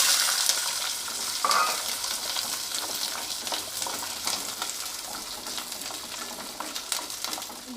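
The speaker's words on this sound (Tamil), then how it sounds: "பூண்டு வந்து நல்லா வதங்கிருச்சு" Peeled garlic cloves frying in a pan with dried red chilies, a close, continuous crackling sizzle with stirring scrapes, louder at the start and easing slightly.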